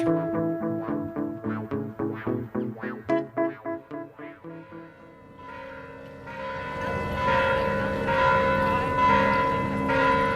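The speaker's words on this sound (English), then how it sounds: "The bells are ringing here at Mission San Juan Bautista" Church bells ring at Mission San Juan Bautista, a run of evenly spaced loud strikes that then blur into a sustained, overlapping clangor of several bells, heard alone.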